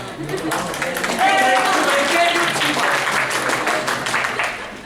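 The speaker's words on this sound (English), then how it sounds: "Random clapping for that?" Scattered applause from a small crowd at an anime convention panel, brief and uneven, mixed with people talking over it.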